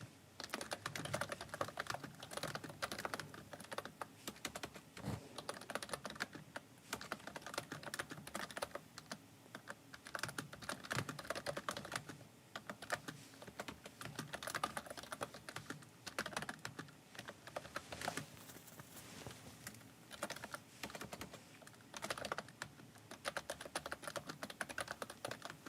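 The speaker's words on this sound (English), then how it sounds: "So I'm typing" Continuous typing on a computer keyboard, a dense, steady clatter of close keystrokes with brief pauses, quiet overall and with no voices.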